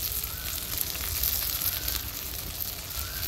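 Ginger paste sizzles loudly and continuously in hot oil in a pan as turmeric powder goes in for an egg curry, a close, dense frying hiss.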